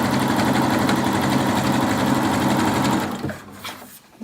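A sewing machine chain-stitching cloth face mask pieces together, running in a fast steady whir close by, then slowing and stopping near the end.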